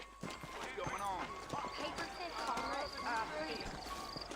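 Horse hooves clip-clop at a trot in the Red Dead Redemption video game, a steady rhythm heard under continuous close male dialogue.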